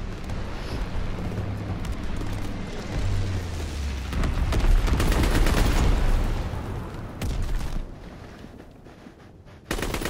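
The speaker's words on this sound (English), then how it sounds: "Enemy bomber approaching. Incendiary bombs incoming." Incendiary bombs bursting in Call of Duty WWII, a loud sustained roar of blasts and crackling fire with rapid gunfire mixed in, swelling to a peak midway before fading.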